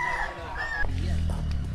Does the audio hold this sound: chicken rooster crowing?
yes